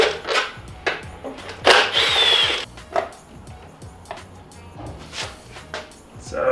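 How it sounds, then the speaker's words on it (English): Covers are pulled off a greasy blown Miata 1.8 turbo engine during a teardown, giving a run of close scraping, rubbing and clunking plastic and metal sounds in irregular bursts; no voices. "I can pull off these covers."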